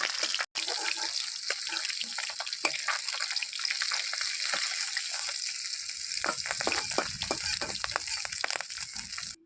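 Fish fries in hot oil, a continuous bright crackling sizzle with scattered pops and spits, fairly quiet and close, with a brief gap near the start and no speech.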